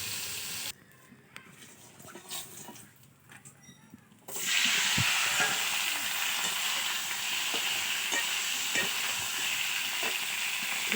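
Fish and tomato frying in a pan, first quiet with a few stirring clinks, then a loud, steady sizzle that suddenly rises and continues with occasional stirring taps, no voices.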